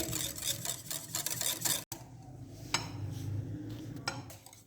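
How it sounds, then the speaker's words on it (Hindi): A spoon mixing Russian salad in a bowl, with a run of quick scraping clinks and soft stirring, then a pause and a few scattered knocks against the dish. "अब हम इसको अच्छे से मिक्स करेंगे।"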